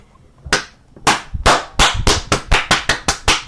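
A crowd claps along to a karaoke song, sharp claps settling into a quickening, steady rhythm up close, with no voices over them.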